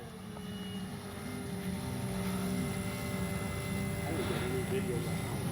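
A radio-controlled Extra aerobatic model airplane drones steadily in the distance, its engine a faint continuous whine, while someone talks nearby.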